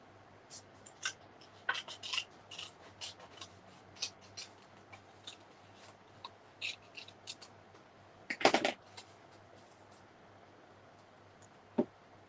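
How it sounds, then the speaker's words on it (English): Scissors cutting paper or card at a craft class, heard as a string of small crisp snips and rustles, close and fairly quiet, with a louder cluster of handling noise near the end. "So let's just grab out our scissors."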